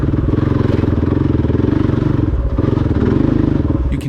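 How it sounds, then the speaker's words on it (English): A motorcycle engine chugs steadily at low revs, a deep, labored rumble with a rapid pulsing beat, loud and close throughout. "You can hear that the engine is really lugging without the high RPMs."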